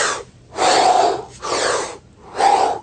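Deep breaths taken as a demonstration: three long, loud airy inhalations and exhalations close to the microphone, each lasting about a second with short pauses between, and no talking.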